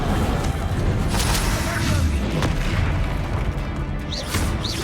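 Spell blasts from the video game Hogwarts Legacy, with loud booming bursts and crashing impacts. Several sharp hits land in quick succession over a rumbling, busy background.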